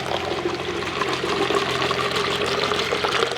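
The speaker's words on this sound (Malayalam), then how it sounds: "ഇനി നമുക്ക് ഇതിനകത്തോട്ട് വെള്ളം ഒഴിക്കാം" Water pours steadily into a plastic bottle, a continuous gurgling splash that fills the short moment.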